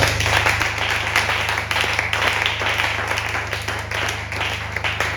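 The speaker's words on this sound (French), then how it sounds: "nous allons saluer tous les orateurs de ce programme en acclamant très fort le Seigneur" A church congregation applauds and cheers loudly in praise of the Lord during a French-language worship service, a dense, steady wash of clapping and acclaim filling the room throughout.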